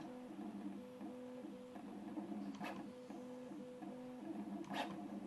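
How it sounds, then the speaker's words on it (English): Motion systems of a Prusa MK4 3D printer whir and sing in repeating stepped tones, a steady mechanical hum with a couple of brief higher sweeps, close and moderately quiet with no talk. "It's just those motion systems generate a wee bit of noise."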